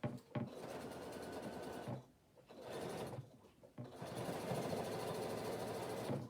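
A sewing machine stitches a bag in long steady whirring runs, broken by two short pauses as the fabric is pivoted, quiet and fairly close.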